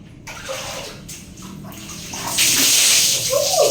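Shower water running at night, splashing and hissing that starts soft and intermittent, then turns into a louder steady spray over a body, close by.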